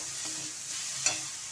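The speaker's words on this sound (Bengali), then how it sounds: "টমেটো, একটু নাড়াচাড়া করে নেব" Tomatoes with coconut frying in a pan, a steady soft sizzle with a couple of faint spoon scrapes as they are stirred, quiet and close.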